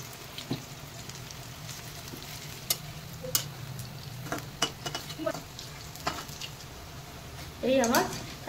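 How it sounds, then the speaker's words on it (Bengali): Thankuni leaf batter fritters frying in hot oil, a continuous sizzle with scattered pops and spoon clicks, and a brief louder burst near the end. "এবার আমি ভাজবো, তেলও গরম হয়ে গেছে"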